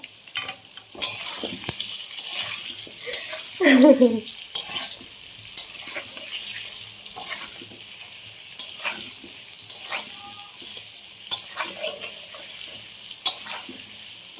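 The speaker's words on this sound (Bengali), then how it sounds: "চলো আলুটা ভাজা হোক" Potatoes fry in a pan for a chicken and potato dish, giving a soft sizzle under intermittent stirring, scraping and clinks of a utensil against the pan.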